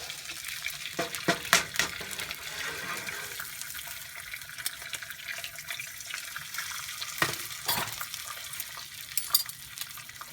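Eggs frying in a hot pan give a steady, close sizzle and crackle with scattered pops and brief louder bursts throughout, and no one speaks.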